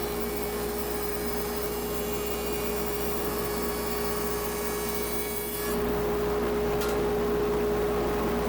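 A jointer set to a one-eighth-inch cut planes a wooden board with old knot holes, giving a steady loud machine whir with a constant hum that shifts to a rougher, brighter roar partway through as the cutter bites, without any talking.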